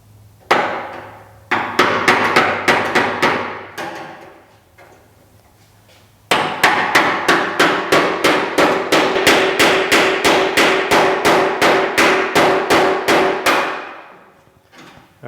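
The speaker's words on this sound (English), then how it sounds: "let's grab the hammer, the chisel" An old wood chisel driven by a hammer to split a rusted seam on a 1950 Chevy truck fender flange: two runs of rapid, sharp, evenly spaced metallic strikes, a short burst and then a longer steady series, loud and close.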